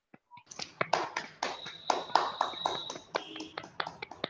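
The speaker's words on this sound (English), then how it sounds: "Can I have a big round of applause" Scattered clapping from several people on a video call, uneven and slightly compressed, with taps and claps overlapping for a few seconds.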